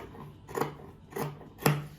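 Scissors snip through fabric along a marked line while making a bird-themed rug, three distinct crunchy cuts spaced about half a second apart, close and clear with no talking.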